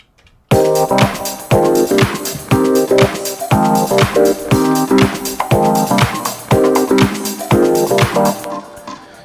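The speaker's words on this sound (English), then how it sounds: "So let's hear what our keys sound like with our drums." An Elektron Digitakt drum machine plays a sampled keys part over a drum pattern, with punchy kicks and snares in a steady repeating groove under sustained chords, loud and continuous with no talking.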